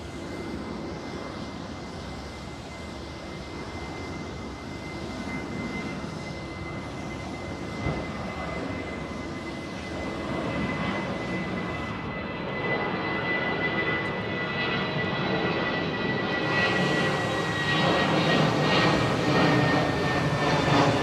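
A jet airliner departs runway 09R at London Heathrow Airport, its engines a broad sustained roar that swells steadily louder over about twenty seconds, with a faint high whine and no talking.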